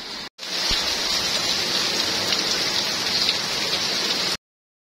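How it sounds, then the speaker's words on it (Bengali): Heavy rain falls outside a home kitchen as a dense, steady hiss that runs unbroken after a brief dropout at the start, then cuts off abruptly. "আর দেখছো বাইরে কি সুন্দর বৃষ্টি হচ্ছে।"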